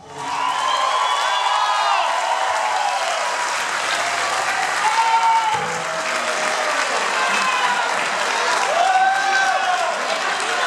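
An audience at a tribute band concert applauds steadily with dense clapping and scattered cheers and whoops, sustained at an even level throughout.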